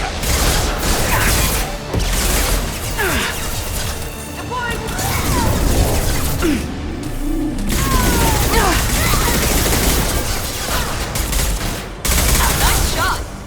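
Sustained heavy gunfire from a firefight in Mass Effect 2 on Insane difficulty, dense overlapping bursts and impacts filling the whole stretch at close range, with brief lulls and voices speaking over the shooting.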